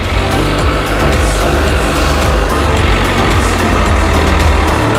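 A crane's heavy diesel engine drones loud and steady while it lifts a 34-foot bus, a dense low rumble with a slight rhythmic throb and no talk.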